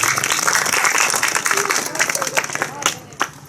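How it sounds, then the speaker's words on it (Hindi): An audience at a village gathering about Babasaheb's ideas claps in honour of Jyotiba Phule, a loud burst of many hands that thins into scattered claps toward the end, with crowd murmur underneath. "ताली बजाओ।"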